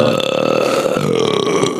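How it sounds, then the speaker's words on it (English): A long, loud, drawn-out belch from a beer-drinking radio-show host, rumbling steadily close to the mic for nearly two seconds with no talk over it. "I miss those burps."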